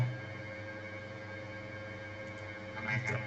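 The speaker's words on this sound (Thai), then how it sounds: "พัดลมดังมากเลยใช่ไหม" An electric fan hums in a room, a steady, faint tonal drone that holds unchanged throughout, with a slight swell near the end.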